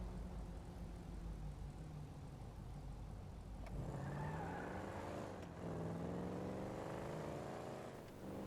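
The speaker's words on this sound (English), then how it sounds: "Nice throaty engine in this car." Throaty car engine in GTA V revving continuously, rising and falling in pitch with several upshifts and renewed pulls, loud and close, with no talk over it.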